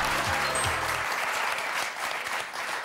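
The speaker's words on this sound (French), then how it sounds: "On l'applaudit très fort." Studio audience applause on the French word game show Motus, a burst of clapping that begins as a short musical sting fades out, loud and steady for a few seconds with no speech.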